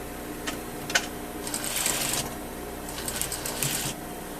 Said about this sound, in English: you're going to sew all around